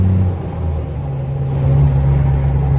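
A tractor engine labours during a first day of corn planting in Kansas, a close, loud, steady drone whose pitch steps up partway through as it shifts gear, with no talk.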